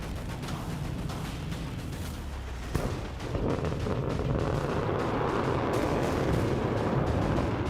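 Minuteman III intercontinental ballistic missile test launch off the coast of California, a loud, sustained rumbling roar with a sharp burst partway through, then a broad, steady thundering.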